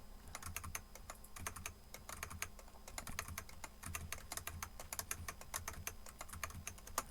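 Someone types quickly on a computer keyboard while building a yearly calendar in OneNote, a close, quiet run of irregular key clicks lasting about seven seconds, with no talking.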